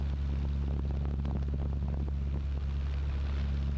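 Small propeller plane in flight on approach near Utapao, heard from inside the cabin as a steady droning engine hum with a low throbbing undertone, loud and continuous throughout.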